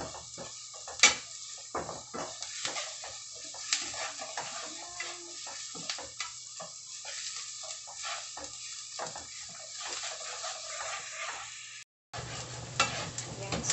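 Beef picadillo being stirred in a pan, a steady sizzle with repeated scraping strokes of the spoon against the metal, close and moderately loud, with a brief break near the end before the frying resumes.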